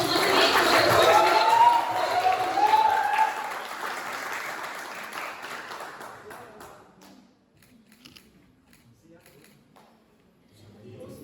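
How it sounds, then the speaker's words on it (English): An audience at a university quiz competition final applauds the winners: full, close clapping for several seconds that gradually thins and dies away into near silence, with a faint sound returning at the very end. "Give them a big round of applause once again for the third winner"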